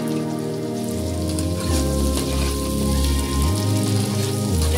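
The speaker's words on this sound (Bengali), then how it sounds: "তেল গরম হয়ে গেছে। এবার আমি এখানে পেঁয়াজ দিয়ে দিচ্ছি।" Sliced onions fry in hot oil in a pan while preparing chicken kosha, a steady dense sizzle with some bubbling crackle, close and continuous throughout, no talking.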